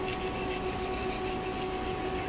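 Steel blade honed on an India sharpening stone with very light pressure, a continuous close rasping rub of steady strokes with a faint thin tonal ring, no talk.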